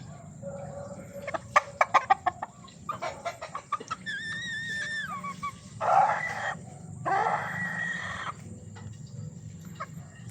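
Hens cluck nearby in short irregular bursts in a backyard farm on a rainy morning, with a rooster's drawn-out crow breaking in midway, over a low background hum.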